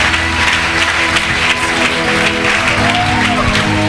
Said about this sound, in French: on acclame Jésus, le roi des rois